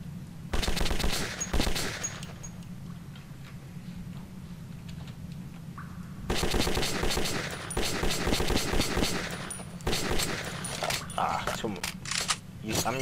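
Gunfire in the video game Metro 2033, with bursts of automatic fire and single shots crackling in clusters throughout, loud and close, over a steady low game drone and occasional background voices.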